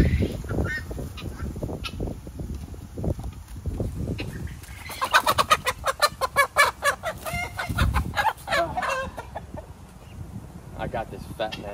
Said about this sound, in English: let's go catch these freaking chickens